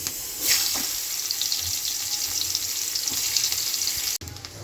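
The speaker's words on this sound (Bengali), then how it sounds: "এবার আমি পেঁয়াজটা দিয়ে দেবো।" Onion added to hot mustard oil in a pan, a sudden loud sizzle that settles into steady crackling frying, cut off abruptly near the end.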